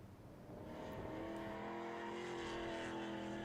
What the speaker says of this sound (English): The sound of a V8 engine rumbling and the screeching of tires tends to draw a crowd wherever it takes place.